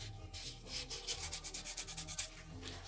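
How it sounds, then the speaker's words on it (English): A very worn, nearly gritless sanding sponge rubs back a painted design in a steady run of soft, scratchy back-and-forth strokes, close and fairly quiet, with no talking. "sand this design back a little"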